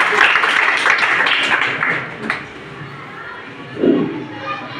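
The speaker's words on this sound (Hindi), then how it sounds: "एक जोरदार तालियों के साथ सर का स्वागत" Audience applause and crowd noise greet a senior teacher at a school Engineer's Day event, a dense wash of clapping that fades after about two seconds, followed by quieter room sounds.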